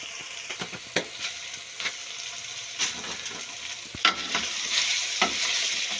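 Spinach meat masala with spices being stirred and fried in a pan, a steady close sizzle broken by repeated scraping strokes of a spoon, with no talking.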